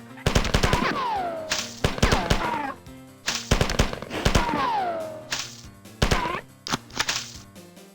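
Gunfire from Marathon, an early-1990s first-person shooter, comes in rapid repeated bursts of shots mixed with splattering alien death cries, loud and dense over about eight seconds, without talk.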